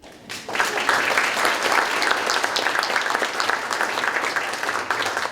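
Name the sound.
audience applause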